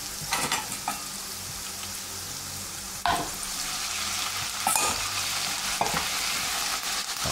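Mushrooms and garlic sautéing in a hot pan, a steady loud sizzle broken by a few sharp stirring clatters, with no voices.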